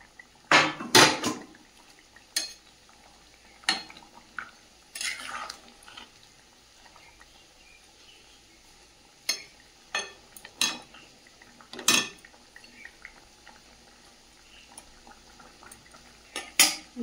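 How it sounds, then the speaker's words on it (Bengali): Fried fish go into a pot of boiled potato and papaya with a series of sharp metal clinks and scrapes from a utensil against the pot. The clinks are scattered and close, over a quiet background. "এই যে এই পর্যায়ে ভেজে রাখা মাছগুলো দিয়ে দেব।"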